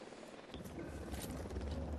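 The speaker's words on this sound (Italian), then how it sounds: "Attivo il drone." A drone activates in the Ghost Recon Wildlands video game. After a quiet half second, a steady whirring buzz starts up and holds at moderate loudness.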